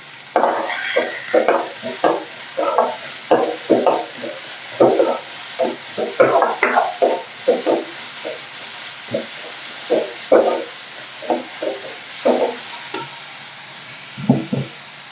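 Ingredients for a buttermilk curry fry in a pan under a steady low sizzle, while a spoon scrapes and stirs in quick, rhythmic bursts close by. A louder burst of stirring comes midway, and the clatter thins out toward the end.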